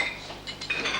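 Metal cutlery and plates clink and rattle in a prison dining area, a few light scattered clinks and scrapes at close range with no talk over them.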